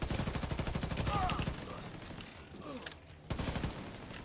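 Turrets fire in a video game in rapid automatic bursts, loud and rhythmic, pausing mid-clip before another burst starts, with faint in-game voice chatter between.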